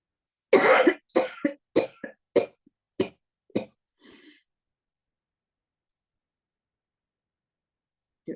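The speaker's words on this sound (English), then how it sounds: "This time we take a deep breath and then we cough." Deliberate coughs during a seated yoga breathing exercise: a quick series of about seven sharp, close coughs, then a short breath and a long silence before one more cough at the end.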